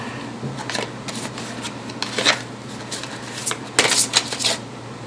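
Angel oracle cards shuffled by hand at close range: soft papery riffles and slides in short irregular bursts, fairly quiet, with no talking.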